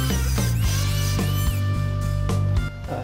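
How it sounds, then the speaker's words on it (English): A Dremel rotary tool trims the edge of a Ford Escort MK1 wing panel with a loud, continuous high whine that wavers slightly as it cuts, close up and uninterrupted by talk. "I'm going to get a Dremel in there now and just take the edge of that"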